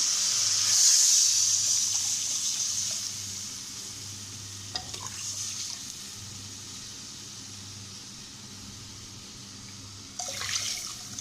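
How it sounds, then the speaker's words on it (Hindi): Lassi pours steadily into a pot of kadhi pakora with a soft rushing splash at first, followed by quieter stirring and occasional clinks, no voices. "अब ये लस्सी हम डालेंगे।"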